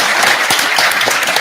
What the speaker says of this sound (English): Let's give a round of applause to our panelists here today.